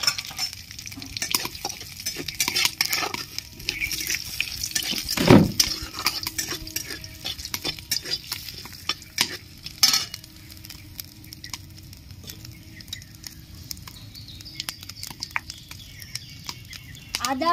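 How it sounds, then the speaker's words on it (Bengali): Bay leaf, whole garam masala and a pinch of cumin crackle and sizzle in hot oil for a jackfruit biryani, a steady hiss with scraping stirs and a sharp pop near the middle. "সামান্য একটু জিরে ফোড়ন দিয়ে দিচ্ছি"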